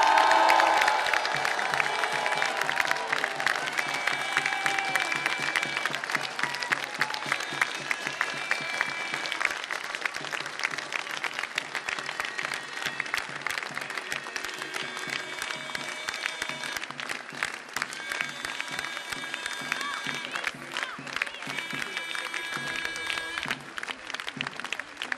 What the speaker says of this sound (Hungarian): egy tapssal, illetve lehet kiabálni is